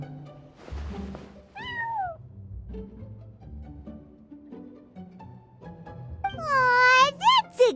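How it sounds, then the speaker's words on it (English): A cat meows in a Genshin Impact cutscene: one short rising meow early, then a longer, louder meow near the end, with children's and characters' voices speaking over a quiet musical background. "Aw, that's a good kitty, Sir Pouncelot."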